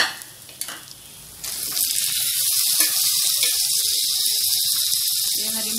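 Tomatoes tipped into a hot pan of browned onions while cooking kadai paneer produce a sudden loud hissing sizzle that holds steady after a few quiet clinks, close and continuous, with no talk.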